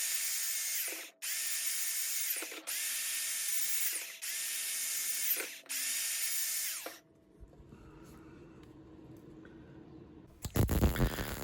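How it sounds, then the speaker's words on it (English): A power file grinds on a shop-made metal tool part in repeated loud, steady passes with brief pauses between them, then the motor winds down and some clattering handling follows at close range. "All that remains now is a clean up of the power file"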